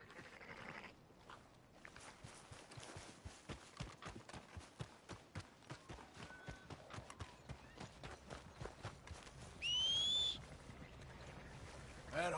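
Quick, regular hoof clip-clops from a horse in Red Dead Redemption 2 patter along steadily for most of the stretch, fairly close, with a brief whistling tone near the end.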